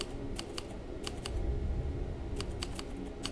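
Steady typing on a computer keyboard, clicking keys in quick irregular bursts over a low background hum.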